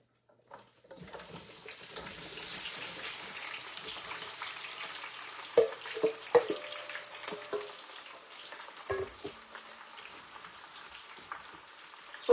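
Onions frying in oil for a family stew, a steady soft sizzle and crackle with scattered pops and clinks of a utensil against the pot, fairly quiet and close.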